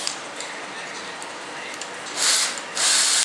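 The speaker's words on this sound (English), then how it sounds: "Okay, got that bad boy drilled out." Power drill boring out a part on an F-14 Tomcat model kit, heard as two short, hissing whirring bursts near the end after a quieter stretch.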